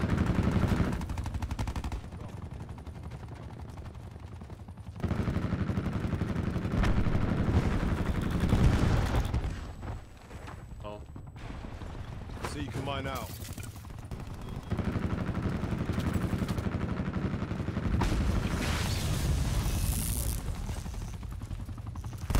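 Gunfire in Call of Duty Black Ops 4 during a Control mode match in the private beta: repeated bursts of rapid automatic shots, loud and close, with brief pauses and other weapon and mechanical game sounds between volleys.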